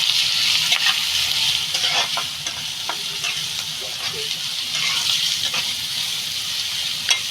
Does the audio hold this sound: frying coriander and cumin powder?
yes